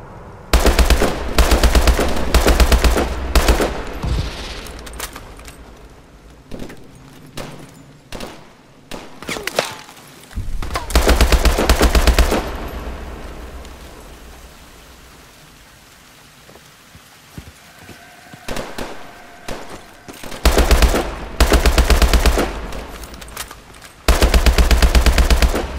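Loud bursts of automatic gunfire in the video game Call of Duty Advanced Warfare, several rapid volleys separated by quieter stretches, with a final cluster of bursts near the end.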